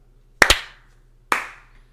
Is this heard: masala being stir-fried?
no